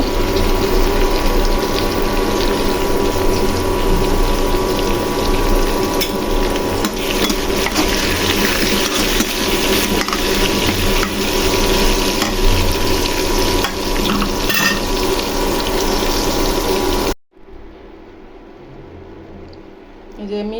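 Red amaranth greens fry in oil in a wok with onion, green chilli and garlic, giving a loud, steady sizzle with stirring scrapes that cuts off sharply near the end.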